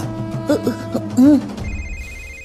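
A telephone rings in a tense household scene, a short electronic tone pattern at moderate level following a brief burst of other sound, then holding steady alone.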